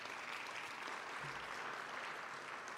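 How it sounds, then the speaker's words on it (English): Applause from the audience at a State of the Government address fills the space, a dense, sustained clapping that stays steady and loud from start to finish. "Give him a round of applause"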